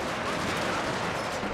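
Infantry fire in a Total War: Shogun 2 battle, a dense, continuous crackle of overlapping gunshots heard at a steady middle distance.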